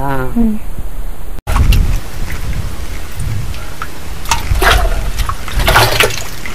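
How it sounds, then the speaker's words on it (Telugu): Panchagavya trickles and splashes as it is strained through thin cloth close by, with a brief voice at the start. "పలసటి గుడ్డ తీసుకొని దీన్ని వడబెట్టాలి"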